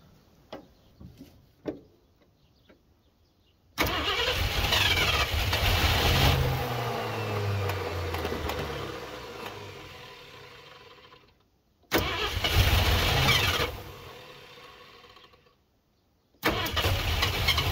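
A 1970 Ford Mustang Mach 1 engine, sitting unrun for 30 years and primed with gasoline in the carburetor, cranks and catches three times, roaring loudly and running roughly for several seconds before cutting out, after a few faint clicks.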